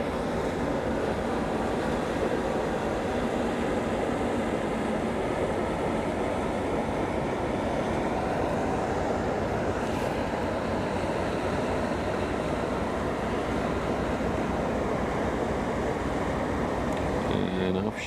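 A ship's engine rumbles in a steady low drone as the vessel passes along the Ghent-Terneuzen canal in the evening. The continuous broadband noise stays constant and fairly loud, with no clear talking.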